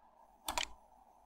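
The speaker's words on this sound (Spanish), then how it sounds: "vas a teclear Enter." One Enter keystroke on a computer keyboard while repairing Windows 10 from the command prompt: a single quiet, close double click lasting a fraction of a second over faint background hum, with no speech.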